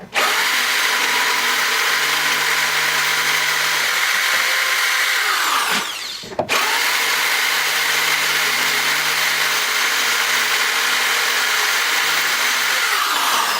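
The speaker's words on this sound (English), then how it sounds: "So far I've gotten pretty far with this drill bit that was already on this Ryobi drill." A Ryobi cordless drill runs steadily while boring a pilot hole into a frame rail bolt, a loud continuous whine with a short pause near the middle before it resumes and carries on.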